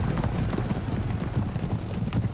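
Cavalry hussars gallop in a Napoleonic-era strategy battle, a dense, steady rumble of many hooves pounding together with battle noise, loud and continuous throughout.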